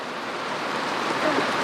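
Rain falls on a sailboat moored in Deltaville, a steady, even hiss of close drops with no voices over it.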